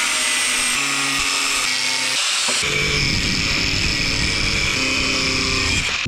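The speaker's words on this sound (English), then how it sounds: "angle grinding as the next best power tool" A loud, steady high-pitched whine of an angle grinder cutting metal, its pitch shifting partway through as the cut continues.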